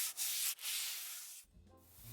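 Steady, raspy scraping of sandpaper rubbed back and forth by hand over a painted wooden workbench surface, close up, ending with a brief shift to a duller rubbing.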